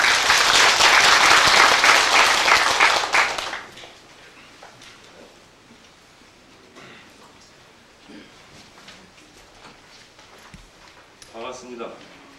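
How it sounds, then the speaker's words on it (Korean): An audience at a union inauguration ceremony and general meeting gives loud sustained applause for about three seconds, then it stops abruptly, leaving a quiet room with faint shuffling and a voice beginning to speak. "뜨거운 박수로 환영해 주시기 바랍니다."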